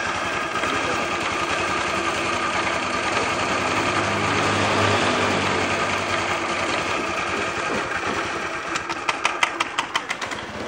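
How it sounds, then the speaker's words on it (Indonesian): A Honda Vario CBS motor scooter engine idles steadily and loudly up close, not yet fully warmed up on a morning start, with a brief run of sharp rhythmic ticks near the end. "teman-teman dengarkan suara mesin"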